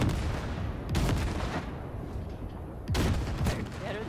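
Rapid video-game gunfire from Cyberpunk 2077 blasting at wrecks, loud dense bursts of shots with sharp cracks near the start and again around three seconds, no talk.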